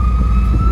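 A siren wails in steady, loud tones amid Paris traffic on a rainy day, with the low rumble of engines close beneath it.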